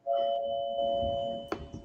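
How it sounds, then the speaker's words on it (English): A doorbell rings on a talk show, one sustained chime tone ringing out clearly and alone before a short knock-like thud near the end. "If the doorbell don't ring, we didn't have a good show."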